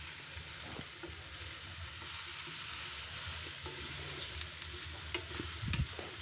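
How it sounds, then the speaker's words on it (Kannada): Radish pods fry in a pan under a steady sizzle, broken by occasional scraping stirs and soft knocks of the utensil against the pan. "ಫ್ರೈ ಮಾಡ್ಕೊಳ್ತಾ ಇದ್ದೀನಿ."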